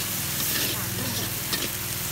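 Vegetarian mi krachet noodles stir-fried in a wok for a vegetarian festival: a loud, continuous frying sizzle with scraping spatula strokes and a brief metallic clank near the end.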